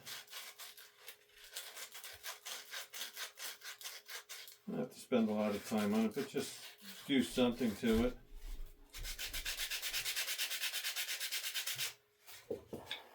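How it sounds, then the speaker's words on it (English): Rhythmic back-and-forth rubbing of sandpaper on the edges of a wooden cube, close and scratchy, interrupted by someone speaking, then resuming as a steady fast rasp. "So it's just sanding down all these little circles just to ease the edge a little."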